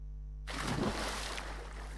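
A splash sound effect from Scratch plays as a single burst of broadband watery noise over a low steady hum, quickly fading into a hiss.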